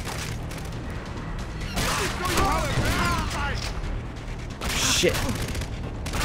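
Video game gunfire in Far Cry 3 comes in heavy bursts aimed at the player, with rattling shots and booms clustered around two loud peaks, mixed with a man's frantic speech.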